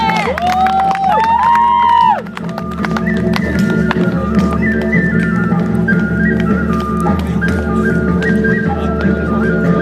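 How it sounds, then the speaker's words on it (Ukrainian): Audience at an amateur variety show in Tyvriv cheering and clapping, a loud continuous crowd roar with whistles and shouts, preceded by a sustained high vocal tone at the start. "Можна підтримувати аплодисментами"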